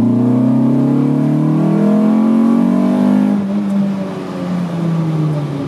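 A 1983 VW Rabbit GTI estimated at 250 hp and revving to around 7500-8000 rpm, accelerating hard through the gears with a loud, rising in-car engine note, then a shift and a fresh climb.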